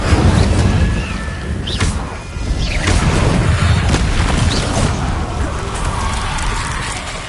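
An Incendio fire spell cast during combat in Hogwarts Legacy, heavy booming whooshes of flame with crashing impacts over constant loud rumbling game sound, with a voice heard over the action.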